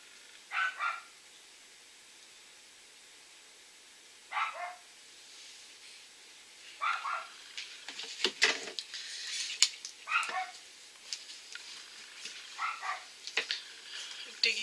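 Dog barking from the back corner of a room, several short separate barks spaced over several seconds, then a denser run of barks and yips with some clattering.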